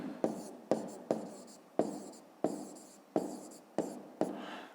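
A pen writes numbers on paper in close, distinct strokes, eight short scratchy bursts in an even rhythm, each one starting sharp and fading, with quiet gaps between.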